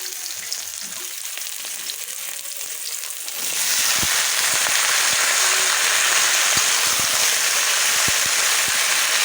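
A pan of Bengali chorchori sizzles and fries on the stove. It starts softly, then jumps to a loud, continuous crackling sizzle that carries on to the end.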